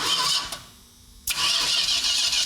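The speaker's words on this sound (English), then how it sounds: "let's just see if it cranks over like it's supposed to" A 1971 Dodge Super Bee barn find is cranked over: a steady mechanical churn drops briefly to near silence, then resumes abruptly and continues loudly to the end.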